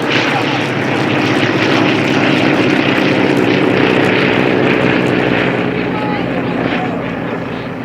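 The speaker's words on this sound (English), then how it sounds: "We've even arranged a flyover for them." Propeller aircraft passing overhead at a Battle of Britain grasstrack racing meeting, a loud, sustained engine drone that swells and holds steady before easing slightly away, with a faint voice partly beneath it.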